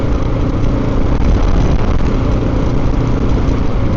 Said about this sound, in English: let me give this a little twist of the throttle again up here.